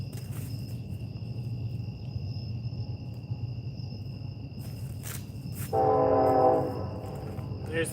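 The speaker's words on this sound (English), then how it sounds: "There's the train." A train passes at night near a fishing spot, a steady low rumble under chirping crickets, with a distant horn blast sounding for about a second near the end.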